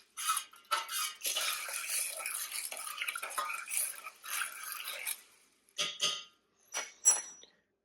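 A spoon stirs tomato, fresh cilantro and chicken for Tex-Mex bowls in a metal pot, scraping and clinking in bursts with a few sharp squeaks near the end, close and fairly quiet with no talk.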